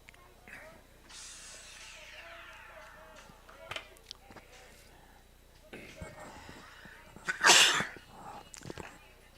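A single sharp, loud sneeze bursts out late in a quiet baseball game broadcast, after faint crowd murmur and scattered knocks, with a commentator speaking around it.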